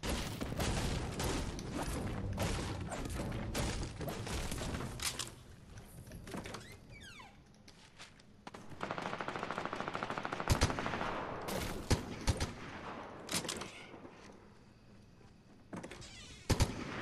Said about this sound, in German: mit der Waffe sprayt man ja richtig